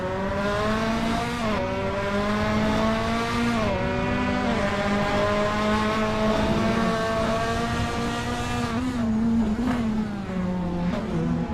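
Toyota GR86 race cars launching at a race start at Zwartkops in a sim racing game, a pack of engines revving loudly and climbing through gear changes together, close and continuous with no talk.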